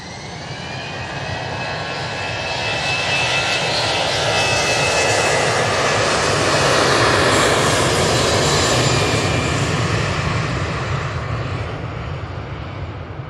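Airbus A321 jet taking off from a runway at Manchester Airport, a loud sustained engine roar that swells to a peak midway and slowly fades, with a steady whining tone early on and no talk.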